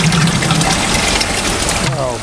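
Water gushes steadily from a screw press dewatering plastics wastewater sludge, a continuous close splashing flow with pump-like machine noise underneath and brief voices near the end.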